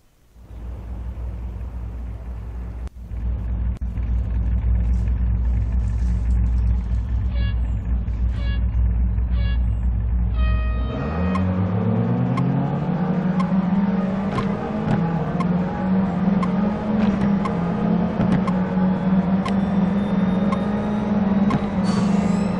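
Racing car engine in the mobile game Real Racing 3, played on a PiPo X9 mini PC: a steady, loud engine drone rising and shifting in pitch with revving, continuous throughout with no talking.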